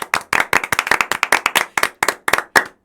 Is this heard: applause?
yes